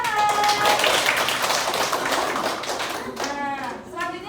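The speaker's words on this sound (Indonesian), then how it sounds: "Oke, kita beri tepuk tangan." Students clapping together in a classroom after a science lesson activity, a dense burst of applause that fades toward the end while a teacher's voice and children's chatter carry on over it.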